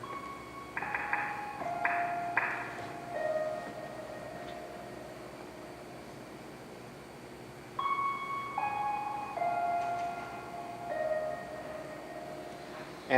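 A randomly generated four-note melody in 5/4 time plays as soft synthetic tones, a short stepped phrase that repeats after a pause over faint background hiss.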